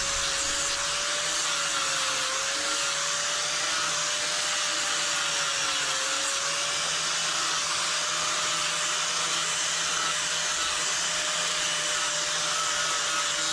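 An orbital power sander runs steadily on a burl wood and steel knife handle, a loud continuous whirring hiss with a faint motor hum, close and unbroken.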